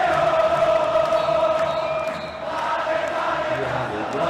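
Wydad football supporters sing in unison from the stadium stands while celebrating a league title, a massed chant that swells, dips briefly, then rises again as a continuous distant crowd roar.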